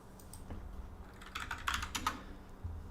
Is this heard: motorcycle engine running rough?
no